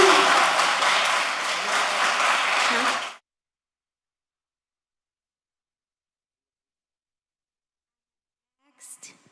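Audience applause in a commission meeting chamber, a loud dense burst of clapping lasting about three seconds, then cut off abruptly into silence, with a brief faint sound near the end.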